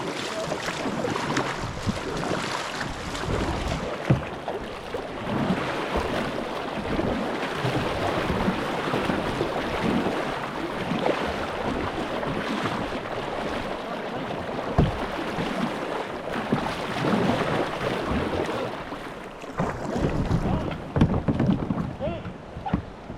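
Kayak paddling on the French Broad River, Section 10 from Murray Branch to Weavers Bend, with steady water swish and wind buffeting the microphone throughout, and occasional voices in the background.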